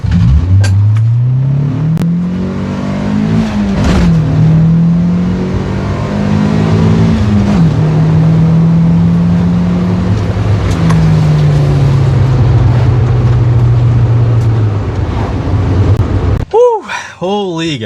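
A modified car on a hard 0 to 60 pull, its engine revving loud and close with rising pitch through several gear changes, then easing off before a short burst of speech at the end.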